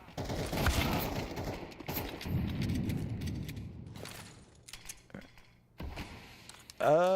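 Rapid gunfire and mechanical weapon clatter in the shooter Counter Strike 2, bursts of shots through the first half, then sparse clicks and a final sharp blast, with commentators talking throughout.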